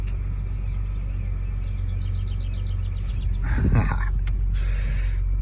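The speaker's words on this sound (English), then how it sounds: "there's a house wren out here" A house wren sings outdoors in bursts of rapid, bubbling chirps over the steady low rumble of a nearby car engine.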